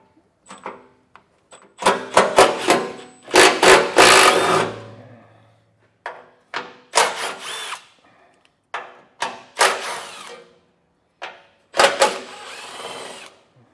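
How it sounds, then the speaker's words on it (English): A power tool buzzes in short repeated bursts while removing six 10mm bolts from a spare-tire heat shield under a truck, close and loud, with pauses between each run. "We're going to have 6 10mm bolts we're going to need to remove."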